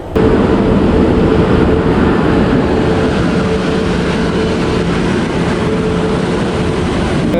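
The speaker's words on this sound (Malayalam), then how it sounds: "അയ്യോ ട്രെയിന് വരാറായി ട്രെയിൻ വന്നു" A train pulls into a station, producing a loud, continuous roar and rumble that stays close and steady throughout.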